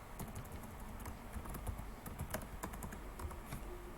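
Quiet, rapid clicking of keys on a computer keyboard, with irregular bursts of keystrokes going on steadily throughout and no voices.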